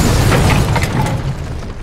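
A loud explosion from a Peruvian action film, Django 3, fills the clip with a dense, sustained roar of rumble and crackling debris that stays heavy throughout without easing.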